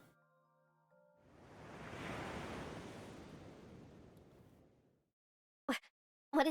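Sea waves in the game Nikke: Goddess of Victory, a single broad surge of surf swelling and fading over a few seconds, followed by brief sharp effects.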